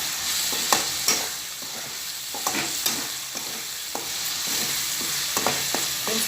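Cut tomatoes fry in a pan for idli manchurian, a constant bright sizzle up close with irregular clicks and scrapes from a spatula stirring them, no talking.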